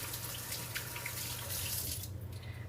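Fruit leather puree pours steadily into a tray in a soft, continuous wet rush, faint and close, ending abruptly near the end.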